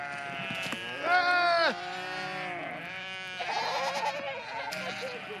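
Sheep and goats bleat in a Mongolian field as livestock head out to graze, several overlapping wavering calls close and loud over a constant outdoor background.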